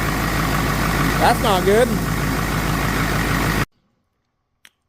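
A turbocharged 7.3 IDI diesel engine with a blown head gasket idles with a steady, rough low rumble while someone speaks briefly over it, then the sound cuts off abruptly into silence.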